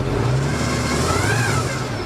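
The engine of a flood-damaged 1978 truck revs hard and steadily during a burnout attempt, a loud close mid-pitched roar that rises slightly in pitch, no voices.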